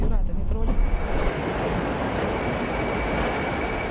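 A Tashkent metro subway train gives a steady, loud rolling rumble with a faint high whine. A voice is briefly heard at the very start.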